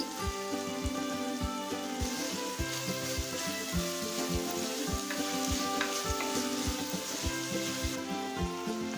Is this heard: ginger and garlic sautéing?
yes